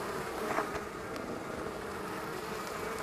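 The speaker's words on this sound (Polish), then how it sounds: "bo troszkę pszczółek w ulu jest." Honeybees buzz inside a hive during a morning inspection near a feeder, a steady, dense hum that stays close and even throughout, with no voices.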